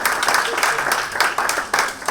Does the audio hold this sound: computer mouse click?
no